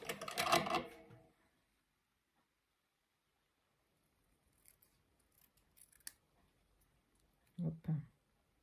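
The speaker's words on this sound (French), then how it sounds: "Je vais déjà bien le découper." Paper being cut out with scissors, with a loud close snipping burst at the start, then quiet, a few faint small snips later, and two short louder cuts near the end.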